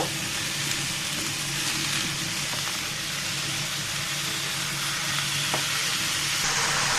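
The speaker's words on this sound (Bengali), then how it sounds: "চুলার আঁচটা বাড়িয়ে আলু আর পেঁপেগুলোকে সুন্দর করে ভেজে নিব।" Potatoes and raw papaya fry in a pan over high heat, making a steady, unbroken sizzle from start to finish.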